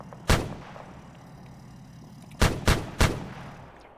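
Sharp weapon blasts in a military video game, including anti-tank fire and gunfire: one loud report, a pause over a low rumbling background, then three rapid heavy shots close together.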